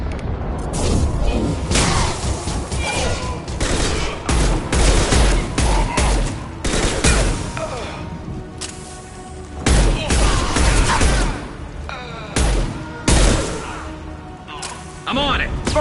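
Mass Effect 2 combat fire, with rapid bursts of gunshots and booming impacts repeating in loud clusters separated by brief lulls, while voices speak intermittently between the volleys.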